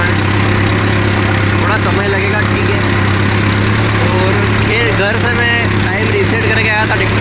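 A tractor engine running steadily in a soybean field, a loud constant drone with a low hum, while someone talks over it throughout.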